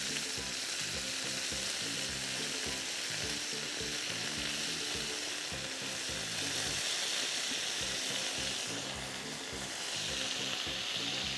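Chicken shashlik sizzles and splatters steadily in a hot pan, a loud continuous frying crackle with faint clinks running through it and no talk.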